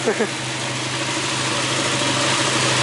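A Toyota Innova car engine idles steadily with a low, constant hum throughout, close by, with some faint background noise.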